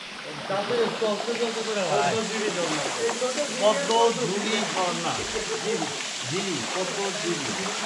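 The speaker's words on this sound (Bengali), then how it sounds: "এই সেই পদ্মঝিরি ঝর্ণা, পদ্মমুখ থেকে পদ্মঝিরি ঝর্ণা।" Padmajhiri stream and waterfall in the Bandarban forest, a steady rushing flow of water heard nearby while people talk over it continuously.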